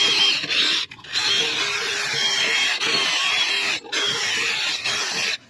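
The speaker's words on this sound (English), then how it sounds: "I'm going to use a drill with a little wire brush here." A power drill runs with a harsh, gritty whir as a wire brush scours a metal wheel hub during a 2008 Acura MDX brake job, holding steady for several seconds with a few brief breaks.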